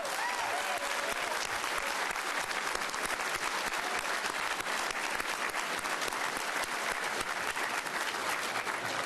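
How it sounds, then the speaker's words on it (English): A large crowd at a Todd Young victory speech applauds the Bai family, a continuous, dense roar of clapping that holds steady and loud for the whole stretch. "Why don't we all give the Bai family a round of applause"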